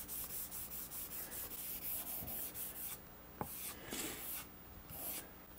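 A rosewood Telecaster guitar body is sanded along the grain with sandpaper on a Velcro-backed acrylic pad. Quiet, rhythmic back-and-forth rasping strokes repeat steadily, then shift to longer, smoother passes, with no talking.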